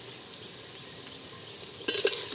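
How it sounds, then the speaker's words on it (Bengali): Ground spice masala of chilli, cumin and coriander powder for handi chicken gives a soft, steady sizzle in the pan, broken by a brief scrape of stirring and a louder clatter of the spoon near the end. "এবার মশলাটাকে বেশ সুন্দর করে কষে নেব"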